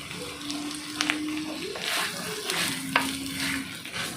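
Chicken fry keeps bubbling and sizzling softly in a pan after the heat is off, a close, low-level crackle with a few clinks of a utensil and a steady tone in the background.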